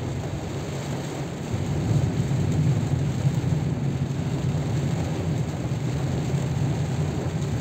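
Heavy rain drumming hard on a moving car during a road drive, a dense, loud and continuous hiss with a deep rolling thunder rumble swelling beneath it and no talking.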